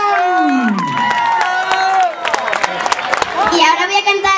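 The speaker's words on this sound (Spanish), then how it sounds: "Y les pido un aplauso gigante para Ariel." A children's carnival show in Candelaria, Tenerife, where a crowd cheers and applauds. Sustained, loud crowd noise with singing-like tones and scattered claps runs throughout the clip, swelling toward the end.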